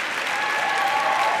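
Steady, dense applause from a large audience at a university graduation ceremony, continuous clapping filling the hall without a break.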